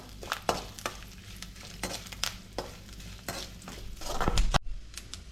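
Coconut pieces and dried chillies roast in a pan: a light crackle under irregular scrapes and knocks of a spatula against metal, a busier stirring burst near the end, then it cuts off; nobody speaks.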